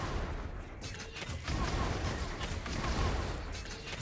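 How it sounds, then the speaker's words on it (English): The Bazooka shotgun fires in the video game Wolcen as a dense, continuous barrage of loud overlapping blasts and crashes that fills the whole stretch with little pause, and a voice speaks over it. "then use the Bazooka shotgun"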